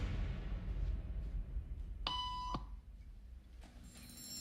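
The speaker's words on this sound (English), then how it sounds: "Beep means stand up." A single bright electronic beep sounds for about half a second, followed a moment later by a fainter second tone, over a low murmur of background noise.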